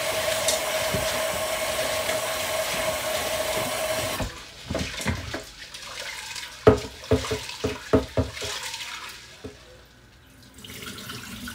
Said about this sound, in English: So I will wash my peas now.